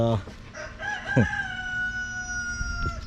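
Chickens calling from a backyard coop, with clucks and a drawn-out crowing-like call that carries over faint outdoor background noise.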